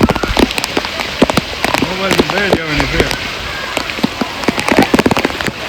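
Heavy monsoon rain pours down in Rajkot, a loud, dense hiss of drops hitting surfaces close by, with sharp splashes throughout and people talking over it.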